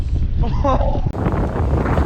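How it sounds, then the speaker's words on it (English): Strong wind gusts of about 40 miles per hour buffet the microphone with a constant low roar and gusty rumble, while a voice speaks briefly over it. "It's like 40 mile an hour gusts."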